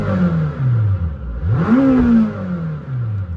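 A Lamborghini Temerario engine revs hard in a short burst, pitch sweeping up sharply then easing back down, loud and close with a raspy, high-strung wail.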